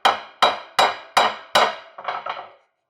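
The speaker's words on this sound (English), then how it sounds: "I'm going to use the hammer and just tap on it" Hammer tapping a U-joint cap into the axle yoke of a 2005-2023 Ford F250/F350 Dana 60 front axle: five sharp metallic taps at a steady rhythm, then two lighter ringing taps, close and loud.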